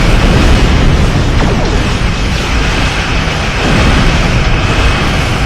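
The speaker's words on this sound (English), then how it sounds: "there's a barrage of torpedoes for them" Torpedo barrage explosions in the Star Trek Online video game make a dense, continuous roar of booms and rumbling blasts, loud and sustained with no clear pauses.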